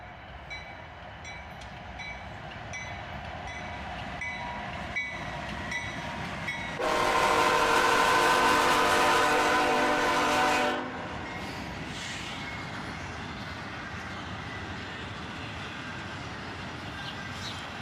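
A freight train led by two GE ES40DC locomotives hauling a southbound intermodal rumbles past with a steady rolling roar, and a loud, sustained horn blast sounds midway before the passing noise continues.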